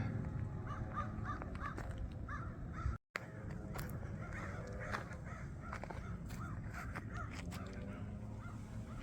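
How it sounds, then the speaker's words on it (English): Crows caw repeatedly in a wild bosque habitat, a series of harsh calls in rhythmic bursts at moderate distance over a steady outdoor background, faint overall with a brief dropout midway. "Wow, what is going on with those crows?"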